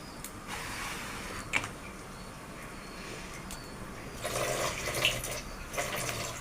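Tap water runs steadily into a kitchen sink over boiled food, a continuous close splashing stream that grows louder near the end.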